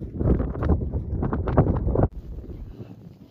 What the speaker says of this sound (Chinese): 咱们这边风声有点大